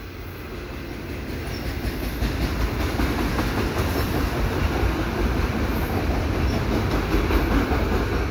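Freight train cars rolling past on rails at a CN eastbound manifest, a continuous loud rumble with faint rhythmic clacking that builds slightly and holds steady throughout, no voices.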